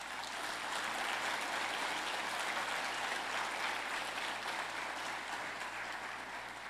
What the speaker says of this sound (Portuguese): Quero que você aplaude o Senhor por isso